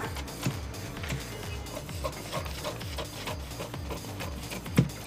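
Scissors cut through blouse fabric along a marked line, a rhythmic series of soft scraping snips at a fairly even pace, close and quiet, ending with a brief sharper knock.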